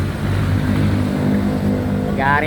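A heavy tricycle motorcycle engine drones steadily close by on a road trip, a low continuous rumble with a short whine near the end, and a voice speaks over it.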